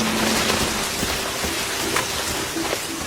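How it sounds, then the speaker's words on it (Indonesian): Heavy rain falls steadily in a loud, constant wash of drops, with faint scattered tones and thuds beneath it and nobody speaking. "hujan turun cukup deras"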